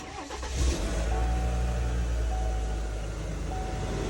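A 2019 Chevrolet Silverado 1500 with the 2.7-litre turbo engine idles with the hood open, a loud, steady engine rumble and hum that runs through the clip, close by and without talk.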